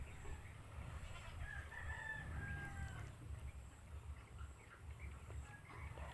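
A rooster crows at a distance, with soft clucking from chickens amid outdoor background noise.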